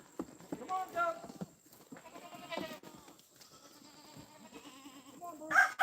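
Goats bleat repeatedly on a farm as they are herded back in, nasal wavering calls scattered across the clip, some close and loud, others fainter, with a few soft hoof taps.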